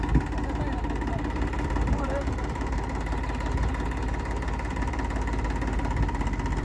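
Tractor engine idling steadily near a farm repair where a broken trailer wheel is being jacked up, a continuous mid-pitched drone under shouted directions from several people.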